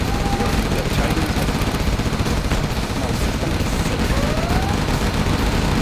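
Dense, continuous video-game gunfire from Command & Conquer Generals Zero Hour, with a spinning-barrel Chinese unit in a 4v4 match, forming a steady loud fusillade that mixes with other battle noise throughout.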